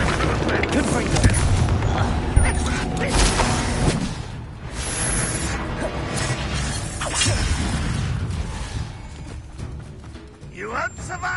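Confringo fire spell in the video game Hogwarts Legacy bursting in repeated booming explosions with whooshes and crashes, layered over dense game music and effects, with voices speaking throughout.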